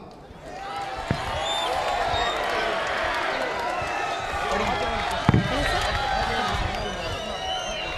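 A large school crowd at a boys' higher secondary school annual day applauds prize-winning students with steady, dense clapping that fills the hall throughout, while voices carry over it.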